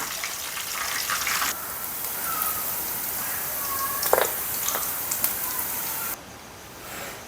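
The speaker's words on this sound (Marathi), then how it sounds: "हे बघा छान असे बॉल मस्त तळून झालेत" Soybean manchurian balls frying in oil give a steady crackling sizzle with a few scraping clicks, then the sound drops away sharply near the end.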